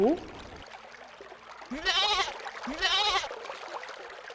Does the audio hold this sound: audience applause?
no